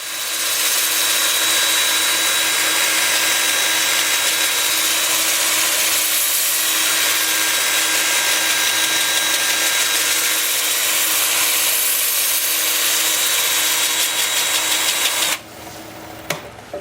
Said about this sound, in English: time for sanding